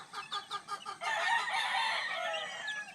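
Close 16-day-old gamefowl chicks and chickens cluck in a quick run of short calls, followed by a longer, louder squawking cackle.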